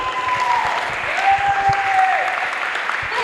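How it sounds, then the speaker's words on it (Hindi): Audience applause for Rafiq sir at a stage show, dense steady clapping close by with a faint voice or tone running underneath. "जोरदार तालियां रफीक सर के लिए"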